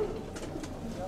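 Pigeons at a pigeon club's celebration in Volos, with soft cooing and bird calls low in the background under a steady outdoor hum.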